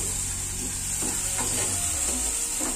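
Steady sizzle of egg curry frying in a pan as coriander is stirred in, with soft scraping strokes of the spoon every half second or so over a constant hissing background.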